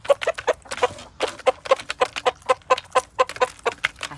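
Backyard chickens pecking at mealworms scattered over ice, making a rapid run of short, close clucks in an uneven rhythm, with no voices.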